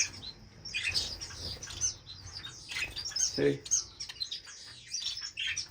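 A pair of Gouldian finches chirp and tweet in quick bursts, with a short spoken word in between and light rustling in the background.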